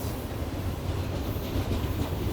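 A long freight train loaded with coal rolls past on Ohio rails, a steady loud rumble with faint clickety-clack of wheels, continuous and close throughout.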